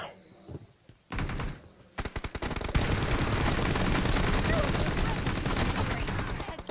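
Video game gunfire: a few short bursts, then sustained loud rapid automatic fire that runs on without a break, close and dense, with voices briefly audible at the start.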